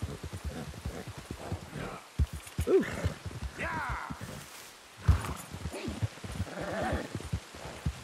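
A horse's hooves plod through rain in Red Dead Redemption 2, soft clip-clops over a wet background hiss, mostly under someone talking.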